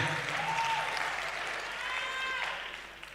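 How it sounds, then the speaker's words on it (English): An audience at a memorial service claps in a soft, steady wash of applause that sounds somewhat distant, with faint tonal whistles or cheers rising above it. "Let's give Medleko another round of applause"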